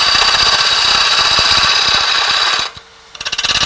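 A wood lathe spins while a skew-like tool cuts a sphere round, a loud steady whir with rapid rhythmic chattering of the cut, then a sudden drop to near quiet as the tool lifts before the cutting resumes.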